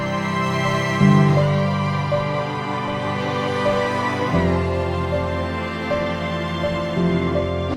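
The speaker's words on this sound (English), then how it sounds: "which you can combine with other MIDI strings to make string arrangements that sound like this" A MIDI string arrangement built from violin slide samples: sustained layered string chords with gliding pitch shifts and a change of harmony partway through, steady and full throughout.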